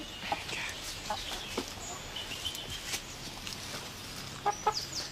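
Chickens clucking and squawking in a backyard coop while being caught by hand, scattered agitated calls at moderate distance over a steady background hiss, with brief sharp squawks near the end.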